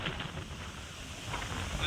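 Steady wind over a farm field with planted crops buffets the microphone in a constant roar, with no break across the whole stretch.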